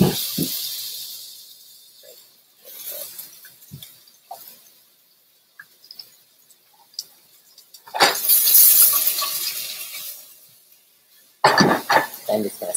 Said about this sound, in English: I'm just going to saute these until they're nice and soft.